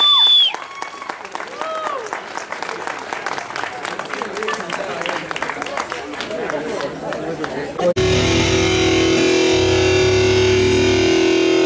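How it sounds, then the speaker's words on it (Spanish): A live concert crowd claps and cheers loudly for an invited guest, a dense, sustained wash of applause with scattered shouts, ending abruptly as a steady amplified band hum takes over. "Un aplauso para Rex, por favor."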